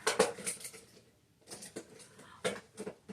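A dog chews on a toy in the background, producing faint irregular clicks, crunches and rattling bursts in clusters separated by short pauses.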